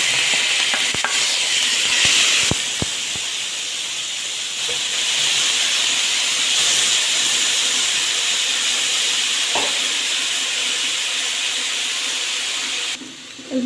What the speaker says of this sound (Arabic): جبت صينية وفيها مادة دهنية، انزل بالبصل يتشوح